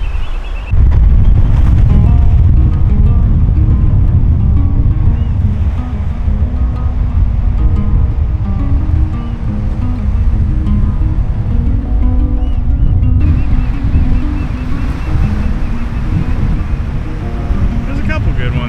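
Steady surf and wind buffeting on a cold shoreline where small waves break, a continuous loud rushing wash with wind noise on the microphone throughout.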